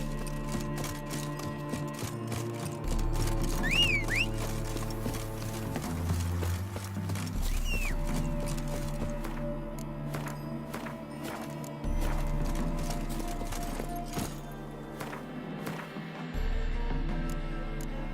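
Roach, Geralt's horse in The Witcher 3, clip-clops along at a trot, the hoofbeats fairly close and steady over a bed of low game music, with no one speaking.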